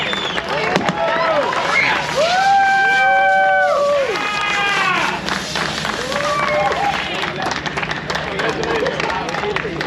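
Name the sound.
applause for the top three drift drivers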